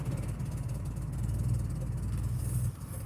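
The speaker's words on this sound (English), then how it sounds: "You hear how this car sound this morning," A car engine idles on a quiet morning, a low steady rumble heard up close with a slight pulse before dropping off near the end.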